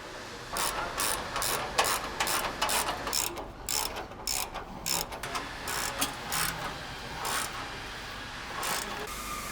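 A ratchet tightens factory bolts on an aFe bull bar with light mount fitted to a Ford Bronco, giving rapid close clicking bursts in repeated short strokes with brief pauses between them.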